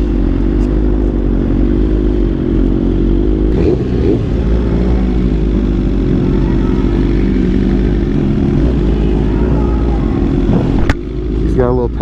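Sport motorcycles, including a ZX6R, Hayabusa and M1000RR, rumble and rev steadily at a bike night before heading off on a night run, a dense engine drone throughout with a sharper rise near the end.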